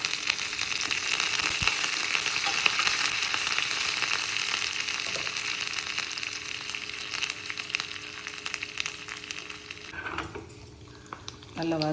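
Seasoning frying in hot oil until golden for salt kula kattai, a steady close sizzle and crackle running throughout, with a brief stir or pan clatter near the end.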